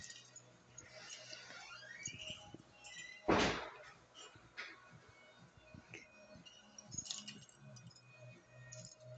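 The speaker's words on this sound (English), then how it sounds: "She likes to slam doors." A door slams once, a sharp, fairly distant thud amid quiet room noise and faint knocks, with a few softer bumps afterward.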